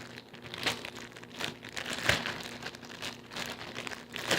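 A plastic bag crinkled while homemade slime is handled in it, irregular close rustles and crackles with a sharper crunch midway, fairly quiet.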